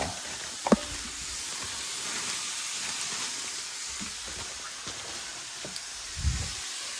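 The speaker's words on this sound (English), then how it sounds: "I'm going to immediately add the cabbage as well." Cabbage sizzles in a pan for a saucy pork and cabbage stir fry, a steady, fairly quiet hiss with a few small clinks and stirring bumps.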